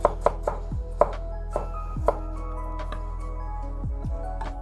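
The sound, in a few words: knife chopping galangal and ginger into thin strips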